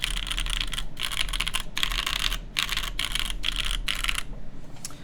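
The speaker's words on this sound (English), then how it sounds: "Sounds like a keyboard though, yes, indeed." Typing on a computer keyboard during a build stream: bursts of rapid, close key clatter separated by short pauses, loud and crisp, ending in quiet.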